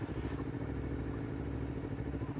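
A motorcycle is ridden around a race circuit, its engine giving a steady, rumbling mid-pitched drone with some clatter, close and continuous throughout.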